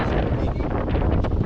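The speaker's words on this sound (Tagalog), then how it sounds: "Malakas yung hangin, no?" Strong wind at sea roars steadily and loudly into the microphone, a constant close buffeting rush with no pauses.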